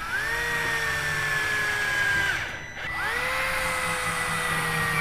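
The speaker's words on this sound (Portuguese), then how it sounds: "Então agora vamos alinhar e parafusar." A power screwdriver drives screws into a DIY CNC Y-axis motor support, two whining runs that rise to a steady pitch and hold for a couple of seconds each, with a brief pause between them.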